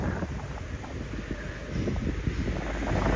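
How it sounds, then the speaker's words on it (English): Strong wind buffets the microphone throughout a Tokyo morning walk near Futakotamagawa, a steady loud rumbling roar that builds slightly toward the end, with no voices. "Yeah, the wind is so loud."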